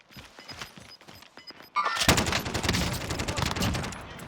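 An RPD light machine gun in the Warzone video game fires a loud sustained burst of rapid shots, preceded by quieter scattered distant gunfire and clicks.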